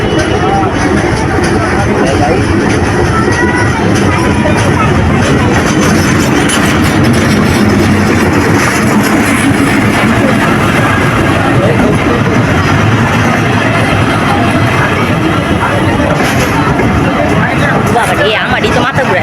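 A train at a busy railway station, a loud steady rumble of rail noise with clatter, under a constant babble of crowd voices and people talking nearby.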